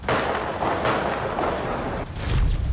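Gunfire from the 2020 terrorist attack on Vienna's streets, where shooters fired into bars and restaurants, heard as a dense, continuous barrage of loud cracks and booms with echo, with a heavier burst near the end.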